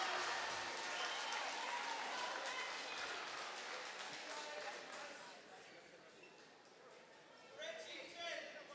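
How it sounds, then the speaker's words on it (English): Applause from a crowd at a boys' high school basketball championship game, dense steady clapping that fades slightly midway and picks up again near the end. "And Bob Mado will applaud his player for committing the foul and not allowing time to elapse."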